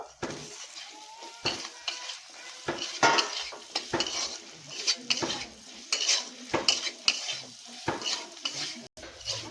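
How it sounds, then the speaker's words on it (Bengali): Potatoes sautéing with salt in a pot, a spoon scraping and clattering against the metal in irregular strokes over a low sizzle, close by with no talking. "পরিমাণ মতো নুন দিয়ে দিচ্ছি এবার আলুটা একটু এর মধ্যে কষিয়ে নেব"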